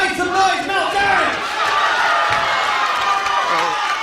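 A crowd at the Rumble in the Jungle 31 kickboxing main event in Melbourne cheers and roars steadily through the fourth round, a dense, loud wall of voices with scattered shouts and claps.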